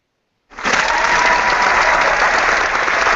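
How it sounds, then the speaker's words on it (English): A canned applause sound effect clicked on during a talk show kicks in abruptly after a moment of silence, then runs as a loud, uniform, flat wash of clapping. "Understand that I'm clicking the applause sound effect"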